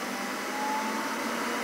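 Creality K1 3D printer with its cooling fans pushed to maximum speed, a steady airy whir carrying a faint constant whine, close and unbroken with no voices.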